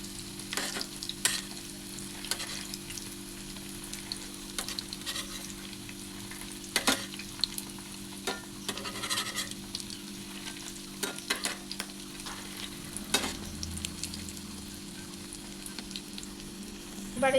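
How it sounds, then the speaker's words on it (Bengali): Fish roe fritters sizzle and crackle in hot oil in a pan, a steady close frying hiss broken by repeated scrapes and taps of a utensil as the pieces are turned, with no talking. "আমি এগুলোকে উল্টে নেব।"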